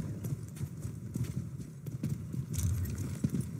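Horse hooves clip-clop in Elder Scrolls Online, a steady galloping patter of game hoofbeats running through the whole stretch at moderate level, with faint background ambience.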